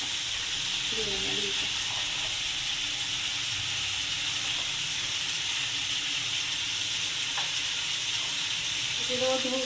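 Ginger-cumin paste with garlic sizzles in a frying pan while a rohu fish curry with ridge gourd and potato is cooked, giving a steady, close hiss with occasional stirring and brief voice.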